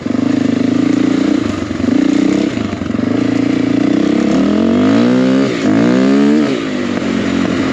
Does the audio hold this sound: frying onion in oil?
no